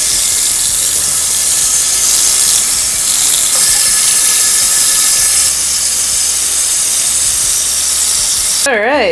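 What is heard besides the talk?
water rinsing cyanotype chemical out of fabric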